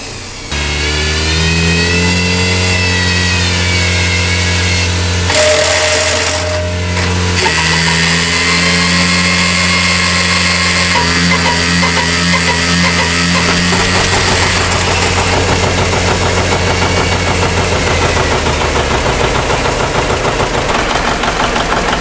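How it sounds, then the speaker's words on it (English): A restored 1959 John Deere 730 two-cylinder diesel tractor in central Illinois starts up with its pony engine and runs, a loud steady mechanical drone that shifts pitch partway through as the engine settles into a rhythmic rumble, with no voices. "Behold a 1959 John Deere 730 diesel, a restored two-cylinder tractor rumbling to life with its pony engine in central Illinois"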